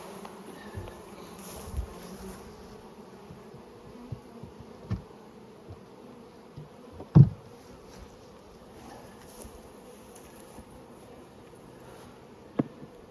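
Honey bees hum around an open hive while brood frames are moved. The buzzing is low and steady, with occasional thuds and knocks from handling the frames.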